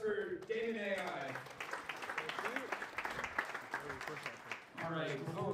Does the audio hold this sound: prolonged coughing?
no